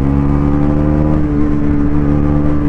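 A 2024 Bajaj Pulsar NS400Z motorcycle pulls hard in third gear, its loud, steady engine drone rising gradually in pitch as it gathers speed, close and continuous with no voices.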